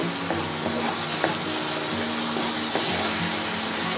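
Paneer gravy, sweetened with a little sugar, cooks in a covered pan with a constant dense sizzle and bubbling hiss that stays even and close throughout.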